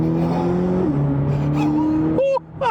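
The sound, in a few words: 2026 Chevy Corvette ZR1 accelerating on throttle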